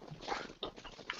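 A dog whimpers and whines softly outdoors during a rabbit and pigeon hunt, thin high cries over a continuous noisy background.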